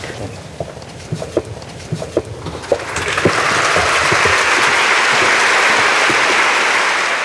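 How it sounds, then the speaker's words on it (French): A warm, sustained wave of applause from an opera audience at a performance by a tenor, swelling after scattered early claps into a dense, steady roar of many hands that fills the hall. "si le public applaudit aussi chaleureusement"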